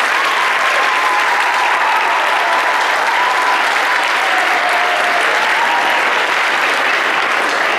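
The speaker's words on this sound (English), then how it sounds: "give them a round of applause" Sustained, dense audience applause at a school winter band concert, steady and loud throughout with no talking over it.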